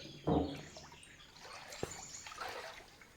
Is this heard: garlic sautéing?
no